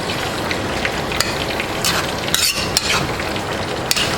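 Tomato paste being stirred into a Haitian chicken vegetable stew (legume) in a pot: a continuous wet bubbling sizzle with sharp spoon clicks and scrapes against the pot, close and fairly loud, with no talk.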